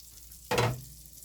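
A big freshly caught fish is laid in a pan over a grill and gives a short, loud burst of sizzling that quickly eases to a low hiss, close by with no voices.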